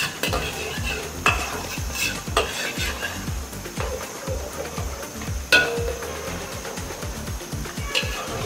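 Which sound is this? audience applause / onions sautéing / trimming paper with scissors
onions sautéing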